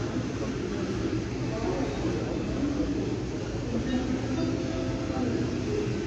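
A train pulls into a platform at Berlin Hauptbahnhof with a steady, loud rumble and rolling rail noise that continues throughout, while a platform announcement sounds faintly beneath it.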